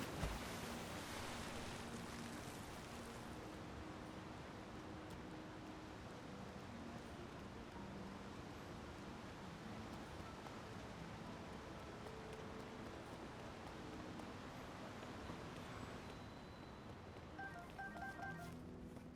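In a video game, a waterfall rushes in a continuous, broad, steady roar that fills the whole stretch, with a few faint electronic beeps near the end and no talking.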